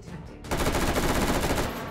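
Rapid automatic gunfire in the VR shooter Hot Dogs, Horseshoes & Hand Grenades bursts in after a brief quiet moment, a loud, continuous stream of shots that carries on to the end.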